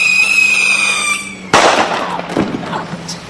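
Bottle rockets fire on a pair of rocket skates in a stunt: thin whistling tones give way to a sudden loud crackling burst and sustained hissing rush with scattered pops.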